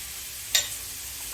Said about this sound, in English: I have bacon sizzling in the pan right now